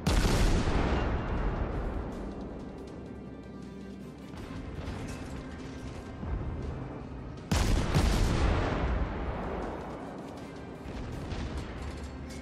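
Enemy gunfire aimed at the player's aircraft in the video game Omaha New Dawn, two heavy booming bursts of rumbling fire, each decaying into a sustained low roar, loud and close with no voices.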